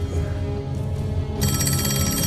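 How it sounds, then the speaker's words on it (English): A telephone rings, with a steady electronic ringing tone cutting in sharply partway through over a low, murmuring background. It is loud and close, and no one speaks. "Look at how long Tommy takes to answer the phone"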